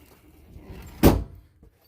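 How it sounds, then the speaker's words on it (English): Sliding door of a van rolls shut and lands with a single solid thud, preceded by faint rumbling movement and followed by quiet. "There's the sliding door."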